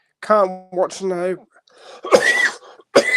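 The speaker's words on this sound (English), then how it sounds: "I'm trying to shift a cough that I've had for about a month" A man with a lingering month-long cough lets out a couple of harsh, close coughs right into the microphone, mixed in with brief speech.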